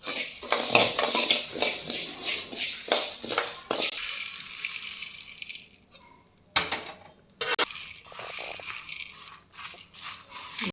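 Roasted curry leaf powder mix being scraped out of a hot pan into another vessel: close metal-on-metal clatter and spoon scrapes in quick bursts, then a short lull and a few more scrapes.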